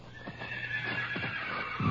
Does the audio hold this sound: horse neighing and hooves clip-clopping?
yes